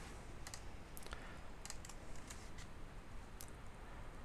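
Keys clatter in quick irregular bursts as HTML is typed on a computer keyboard, crisp clicks standing out over a steady background hiss, with no talking.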